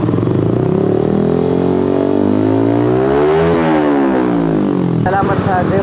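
A Yamaha R15M motorcycle fitted with a V-Lane Carbon 370 exhaust revs up, its engine note climbing to a peak and falling back, then giving way to a rougher burble near the end. The sound is loud and close.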